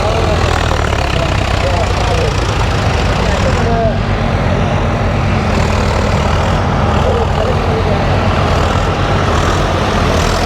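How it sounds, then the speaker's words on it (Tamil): Tractor working a field in Polonnaruwa, Sri Lanka, run without its iron attachment fitted; a loud, steady engine drone and low rumble fill the whole stretch, with voices faintly mixed in. "இந்த டிராக்டர்லாம் இந்த பக்கத்தில் இரும்பு பூட்டுவோம் அதை பூட்டாமல் அடிச்சு கொண்டிருக்கு"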